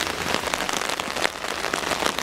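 Rain falls steadily on a market town street, a close, even patter of drops hitting hard surfaces with no voices.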